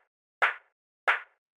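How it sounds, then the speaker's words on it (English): An organic clap sample plays dry and unprocessed, two sharp, bright hits about two-thirds of a second apart, close and alone with quick decays. "more of a organic kind of clap sample"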